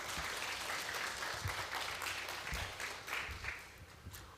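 Audience at a church conference clapping in a broad, sustained wash of applause that fades slightly toward the end, with no talk over it.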